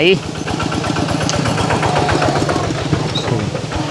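A tractor engine chugs loudly up close, its rapid regular putter steady throughout before cutting off at the end.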